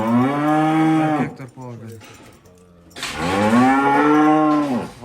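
Cattle at a livestock sale of dairy cows with calves give two long, loud, close moos separated by a short pause, with people talking nearby.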